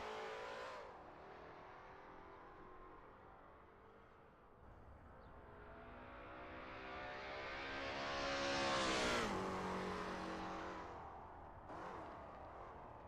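A Lola T70 MkII Spyder race car laps Sebring in a racing game, its engine rising and falling through gears, revving up to a loud peak around a pass before dropping off and climbing again.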